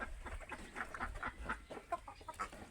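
Laying hens of a popular egg breed cluck in a farm coop, a steady run of short, close clucks and calls with several birds overlapping and no talk.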